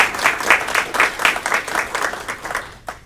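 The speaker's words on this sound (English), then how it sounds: "So please, a round of applause for Miss Jessie." A room full of people at a school board of education meeting claps steadily for a retiring staff member, with dense, even applause running throughout and tapering toward the end.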